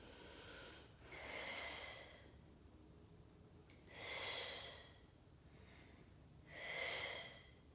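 Three slow, loud breaths during a Pilates mat exercise with a mini ball, each a broad whooshing inhale or exhale about three seconds apart, close and alone without talk.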